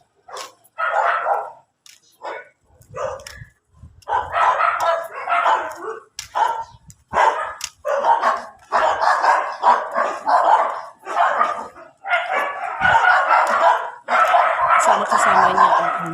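Several pet dogs belonging to an elderly woman living alone bark in repeated bursts, some yips and whimpers mixed in, with speech running underneath much of the time.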